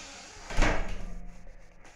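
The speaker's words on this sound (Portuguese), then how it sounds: "Deixa eu fechar a porta." A door being shut indoors, one firm thud followed by a brief rattling settle, fairly close, with no talking over it.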